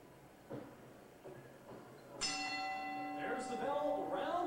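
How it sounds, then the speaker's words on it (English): A boxing ring bell rings to open round one of a professional fight, a sharp clang with a long ringing tail that fills the arena after quieter crowd murmur. "There's the bell, round number 1."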